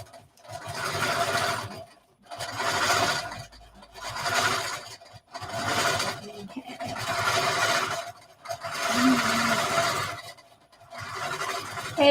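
A sewing machine stitches in six bursts of about a second each, a fast, steady mechanical whirr that stops briefly between runs, close and fairly loud, with no voice.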